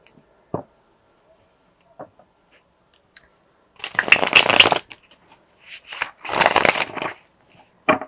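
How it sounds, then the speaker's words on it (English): Cards riffle and snap in a few quick bursts, with soft taps and shuffles scattered between them, close and crisp with no talking. "Let me shuffle these tarot cards to see a little bit more about your situation."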